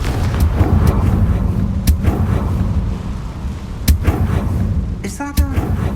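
Confringo, a fiery blasting spell in Hogwarts Legacy, fires as sharp explosive cracks amid ongoing game combat noise, with several distinct loud bursts standing out near the end.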